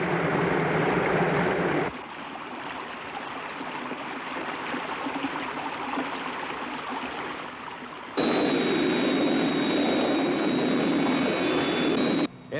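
Thunderbird 1 rescue aircraft from the Thunderbirds TV series flying, a continuous loud jet roar with a rushing hiss, shifting to a higher whining tone partway through.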